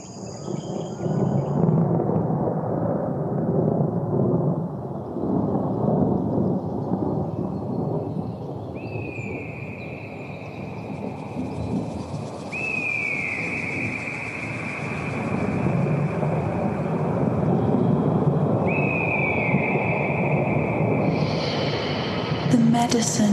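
Deep, rolling thunder rumbles continuously through a meditation recording, swelling and fading in long waves, with crickets or insects chirping faintly and a few rising tonal swoops drifting over it.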